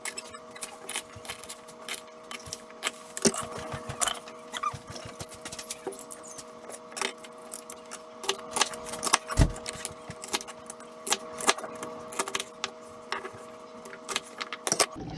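A knife chops through fresh rhubarb stalks on a cutting board, a run of sharp, irregular taps and crunches close up over a faint steady hum, with no talking.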